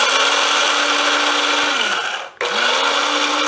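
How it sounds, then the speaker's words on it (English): An electric coffee grinder pulverizes dry oatmeal in a loud, close whir with a steady motor tone. It runs in two bursts, with a brief pause where the motor spins down before starting up again. "we're going to grind it up. I'm going to use my coffee grinder."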